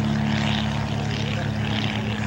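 Vintage PT-23 primary trainer taking off, its inverted four-cylinder Ranger engine of about 100 horsepower droning loud and steady with a propeller hum throughout, no voices over it.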